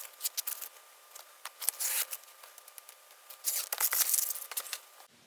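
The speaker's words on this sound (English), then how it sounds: "So now we're just going to pull our painter's tape off" Painter's tape peeled off an antiqued leather bridal bouquet wrap, a series of close, crisp ripping and rasping bursts, some drawn out, with short pauses between pulls.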